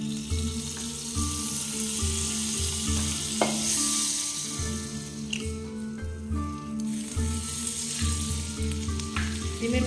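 Butter sizzles steadily in a frying pan, a continuous crackling hiss that holds for the whole clip over faint background music, with no voices.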